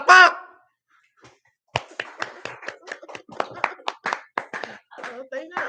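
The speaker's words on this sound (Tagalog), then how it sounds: "Palakpak!" A short shout comes first, then a second of quiet, then a run of about fifteen separate, uneven claps close by, sounding like only a few people clapping.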